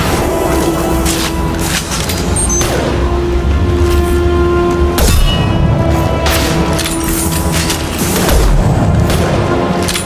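Weapon fire in the video game Mass Effect 2, heavy booming blasts and bursts that stack over a dense, loud battle din and carry on steadily through the whole stretch.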